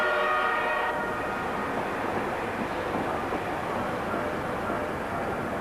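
A British Rail electric locomotive hauls its train past in a steady, loud, broadband roar that stays even throughout, with a faint tonal hum at the start and no talking.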